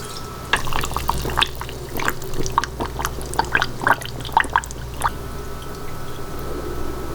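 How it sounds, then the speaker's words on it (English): Brine poured over salmon in a jar for pickling: a series of close, light liquid splashes and drips over about five seconds, irregular and trickling, with a steady low hum behind them. "Now we're gonna pour some brine over it."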